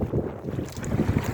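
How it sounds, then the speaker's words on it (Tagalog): Steady gusty wind rumbles across the microphone with the low wash of choppy water against a fishing boat at sea, continuous and fairly loud throughout. "kaso lamang mahangin tsaka maalon."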